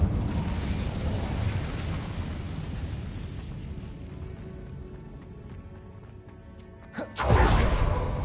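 Incendio fire spell in Hogwarts Legacy: after a stretch of low rumbling ambience, a sharp whooshing burst erupts near the end, a loud close fiery blast that trails off, with no talk.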